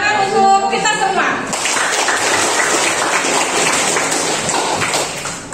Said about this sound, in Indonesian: Baiklah, tepuk tangan untuk kita semua.